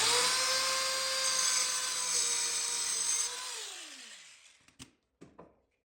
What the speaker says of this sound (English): I've set my plunge saw to 7/8 inches deep, and I'm just going to plunge it down